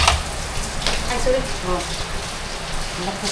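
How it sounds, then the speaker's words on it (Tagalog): Rain falls steadily outside in a soft, even patter throughout, while people talk nearby over the wash of the drops. "Ulan kami dito sa labas."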